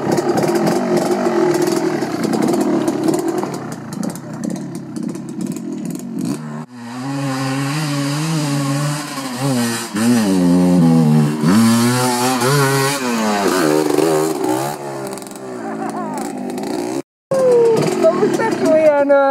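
A small, low-powered motorcycle engine starts up and revs, its pitch climbing and falling in repeated surges, loud and close, sustained throughout.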